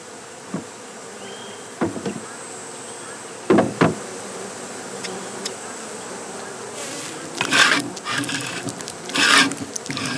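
Drone honeybees buzz around a beehive, a steady close insect hum with brief louder passes and some rubbing, scraping sounds near the end.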